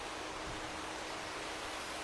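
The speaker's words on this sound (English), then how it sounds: "The sound of the water is gorgeous," Steady rushing water flows without a break in a park in Forres, Scotland, in December, a broad hiss like a stream or small cascade close by, with no voices.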